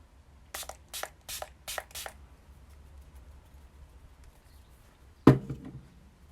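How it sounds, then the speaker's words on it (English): Makeup setting spray misted onto a face, five quick close pumps in a steady rhythm, then a pause in near silence before one sharper spritz. "the setting spray that I'm using"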